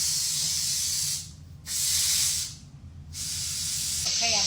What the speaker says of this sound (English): I'm still letting the steam out of my pressure cooker